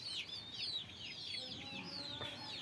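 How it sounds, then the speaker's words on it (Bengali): Desi hen with her roughly fifteen-day-old chicks: high, rapid peeping from the chicks repeats throughout, over soft low clucking from the hen, at a steady moderate level with no talk. "আর এই যে হ্যানে রয়েছে এই যে মুরগি আর মুরগির বাচ্চা।"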